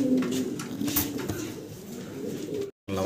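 Domestic pigeons, several female fancy birds, cooing continuously at close range, a steady low throaty murmur layered with repeated coos, cutting off abruptly for a brief silent gap near the end.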